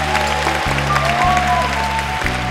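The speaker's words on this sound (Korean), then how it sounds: "다시 한번 큰 박수 부탁드립니다." Audience applause at a film festival opening event, a steady patter of clapping heard alongside a loud, low droning music or sound-system hum with abrupt cuts.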